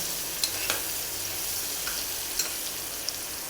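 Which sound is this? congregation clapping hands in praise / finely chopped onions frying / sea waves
finely chopped onions frying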